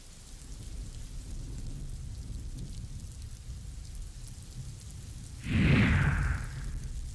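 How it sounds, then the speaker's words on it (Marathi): Heavy monsoon rain pours down in Kolhapur as a constant dense hiss, broken by a louder burst lasting about a second near the end. "मुसळधार पावसामुळे कोल्हापुरात दाणादाण झाली आहे।"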